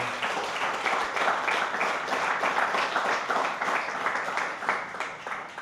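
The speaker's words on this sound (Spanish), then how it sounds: "Dale un aplauso a Dios, por favor." A church congregation claps steadily throughout, a dense, even wash of applause with no breaks.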